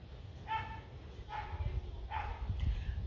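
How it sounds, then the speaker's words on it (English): Several neighborhood dogs bark in the backyard of a city home, with three separate rounds of yapping barks at moderate distance over a low background hum. "all of your neighbors' dogs decide to bark their little heads off when you want to video something"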